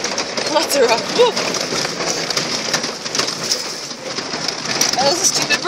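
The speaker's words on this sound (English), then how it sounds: "Are those the stupid birds?" Pigeons or doves coo and other birds call outdoors on a field where wild horses are being chased off, the calls brief and scattered over a steady rain-like hiss, with people talking nearby.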